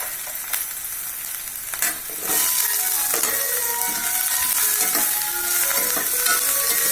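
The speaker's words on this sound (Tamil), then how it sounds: "பச்சை மிளகாய் அதை வதக்கணுங்க" Garlic and green chillies sauté in hot oil in a pan, a close, loud, continuous sizzle that swells after a few utensil clatters and holds steady with occasional stirring scrapes.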